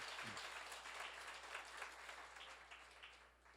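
Seminar audience applauding together, a steady wash of many hands clapping that sounds faint and distant, tapering off toward the end with no voices over it.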